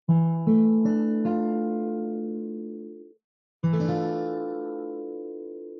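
A minor add 9 chord in the D pattern, closed position, on guitar, plucked note by note in a quick rolled arpeggio that rings out, then struck again after a short silence; close, clear and alone.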